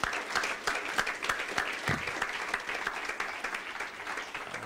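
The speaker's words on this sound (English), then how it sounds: "Let's offer them a round of applause if we may." An audience at an evening Constitution Day event applauds an essay contest sponsor, with steady, dense clapping from many hands sustained throughout at moderate loudness, with no talk over it.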